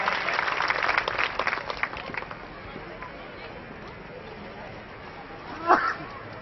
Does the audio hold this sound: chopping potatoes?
no